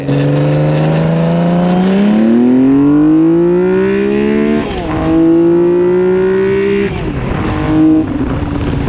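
A Honda CBX 1000 six-cylinder motorcycle accelerates hard and close, its engine pitch sweeping upward through successive gear changes, loud and alone, with brief dips at each shift.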